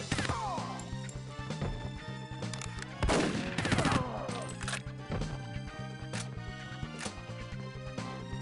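Rapid bursts of gunfire from the N64 game 007: The World Is Not Enough crackle over layered game music, with a dense volley midway and sharper single shots later.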